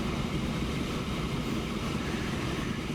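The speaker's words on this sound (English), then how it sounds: "Go have a look at our train." Steady rumbling of a freight train loaded with iron ore in the video game Transport Fever, a continuous even drone with no distinct beats, heard alone without talking.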